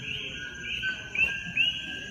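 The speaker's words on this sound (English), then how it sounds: "it's nighttime in the rainforest. You can hear all the frogs and birds" Night in a tropical rainforest, with a steady high shrill chorus of frogs or insects and a few short chirping calls rising above it, fairly near over a low hum.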